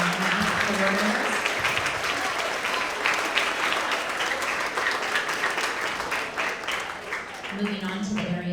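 A school audience gives a sustained round of applause for math award winners. Dense clapping runs loud and steady throughout, with faint voices mixed underneath.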